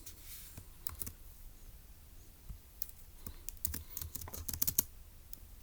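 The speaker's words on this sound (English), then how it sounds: "let's go ahead and type that up in our notes" Soft, quiet typing on a computer keyboard while entering notes, scattered keystrokes in irregular bursts that cluster into quicker runs toward the end, with no voice.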